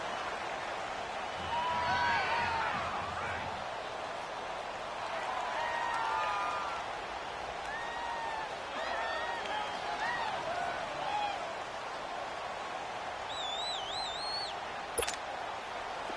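Stadium crowd in a football video game, a steady distant roar of fans with scattered whistles and rising shouts, followed near the end by one sharp clap-like hit.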